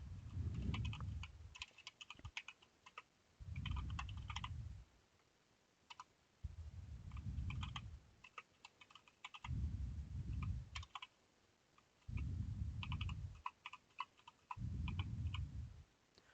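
Computer keyboard typing while setting a password, crisp clustered key clicks in several separate bursts with short pauses between them, near and fairly quiet, alongside low thumping bursts.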